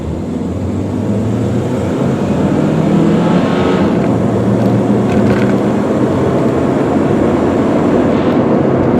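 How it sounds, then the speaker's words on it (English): A 2000 Subaru Forester S AWD's small engine revs hard at full throttle and stays loud as it accelerates, with steady road and wind roar throughout. "Now I better floor it because there's a truck coming."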